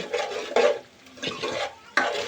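Kashmiri chili powder, about a spoonful, is stirred in a pan while cooking a chicken dish. Soft sizzling comes with several scraping stirs in uneven bursts, close and fairly quiet.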